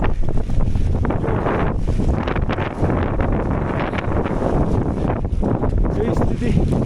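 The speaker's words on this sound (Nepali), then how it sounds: "हावा चलिरहेछ" Strong wind buffets the microphone at the Poon Hill viewpoint tower, 3,210 meters up near Ghorepani, a constant loud roaring rush with gusts and a voice faintly under it.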